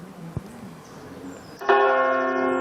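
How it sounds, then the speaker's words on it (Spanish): Bells of the Cathedral of Santiago de Compostela in Galicia tolling in mourning, one bell struck loudly and ringing on with a long, sustained hum after a faint knock earlier. "Doblan las campanas de la Catedral de Santiago de Compostela en Galicia en señal de duelo por el Papa Francisco"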